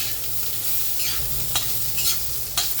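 Garlic and onion sizzle in red oil for a green-chilli thecha while a spoon stirs them. The steady frying hiss is broken by a few sharp scraping strokes.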